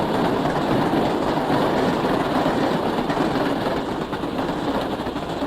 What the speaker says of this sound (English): Wow, look at that American Flyer train go.